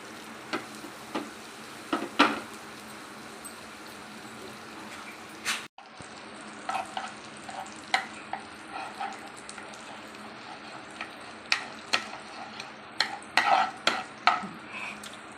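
Two tablespoons of butter melt in a saucepan for creamy white sauce pasta, giving a faint, quiet sizzle broken by scattered clicks and scrapes of a spoon against the pan.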